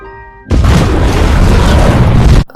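A sudden massive explosion in a film erupts after a quiet moment, a deep roaring blast that rumbles on loudly for about two seconds before cutting off.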